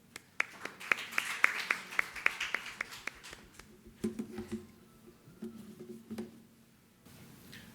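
Sparse clapping from a small forum audience at an innovation event. Sharp, evenly spaced claps ring out for a few seconds, then fade into scattered taps and low room noise.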